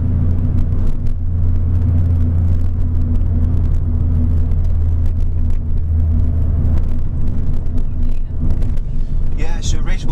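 A car driven in fourth gear on a driving lesson in Derby, a steady low engine hum and road rumble inside the cabin throughout, with a voice talking over it.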